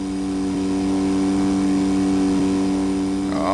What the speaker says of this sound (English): Let's give it a little bit more throttle.